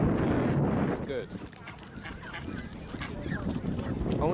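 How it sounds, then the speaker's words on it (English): A goose honks at a nature reserve amid nearby chatter, a few quick nasal honks standing out through windy outdoor noise and people talking. "that goose there keeps tackling"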